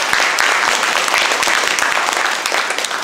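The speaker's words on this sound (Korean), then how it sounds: "예술집단 단미에게 한 번 더 큰 박수 보내주시길 바랍니다." Sustained audience applause follows a stage performance by the art group Danmi at a talk concert in Mungyeong, a steady wash of many hands clapping, loud and even throughout.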